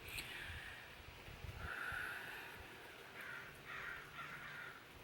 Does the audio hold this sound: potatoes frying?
no